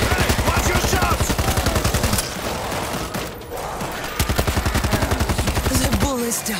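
Automatic gunfire rattles in rapid, loud bursts during World War Z gameplay in Moscow. A brief pause separates two long volleys, and a short voice is heard near the end.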